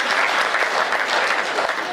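Steady, dense clapping from an audience at a Hindi comic poetry show, loud and close, continuous throughout without a break.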